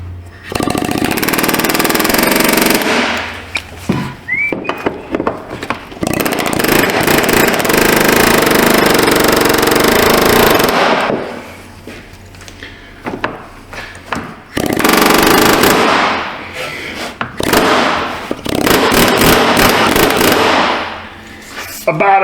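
Brass hammer striking parts of a 2018 GMC Sierra fuel pump, loud rapid metallic banging in long bursts broken by short quieter pauses.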